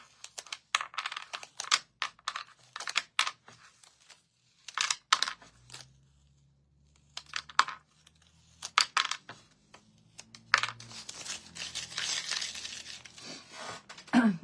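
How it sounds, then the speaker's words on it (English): Laser-cut wooden letters pried off tape, a series of quick, close clicks, taps and peeling snaps in uneven bursts with pauses, plus a brief low hum midway. "We're going to pop them off of the tape."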